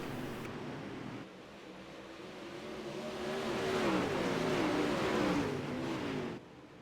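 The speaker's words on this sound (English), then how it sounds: "Underwood starting to close the gap on your race leader, Laurel Havens, in the number 47 car" UMP modified race cars circling the dirt track at Volusia, their engines droning and rising in pitch as they accelerate past, growing louder through the middle before cutting off abruptly near the end.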